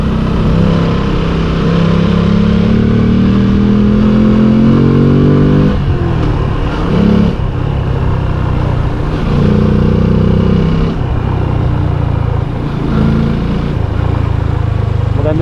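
Motorcycle engine running steadily while riding through hilly countryside roads, a continuous loud drone with rising and falling pitch as the rider changes speed, with wind rumble and a voice talking over it.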